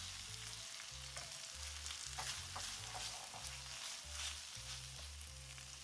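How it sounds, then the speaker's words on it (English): Thinly sliced red onion and garlic sauté over medium heat in a pan, a soft continuous sizzle with faint stirring, fairly quiet and close, no talking. "Let's saute half a medium red onions thinly sliced for about 3 minutes on medium heat"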